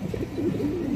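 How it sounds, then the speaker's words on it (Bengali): Pigeons from a colorful rare pair offered for sale, including green-necked and silver khaki types, coo in low, continuous murmuring phrases close by, steady throughout with no talk. "কালারফুল আছে, সুন্দর কবুতর।"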